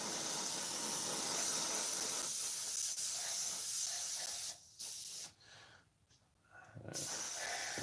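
Black paint hisses from a spray can or airbrush onto a scale model in steady close bursts, then drops away in short gaps with brief pauses before the spraying resumes.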